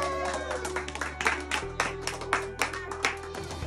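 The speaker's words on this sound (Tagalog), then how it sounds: "Hoy, thank you so much. Isang palakpak." Guests at a thanksgiving party after the Battle of the Voice 2025 singing contest give a short round of lively clapping, close and steady, over a low background hum.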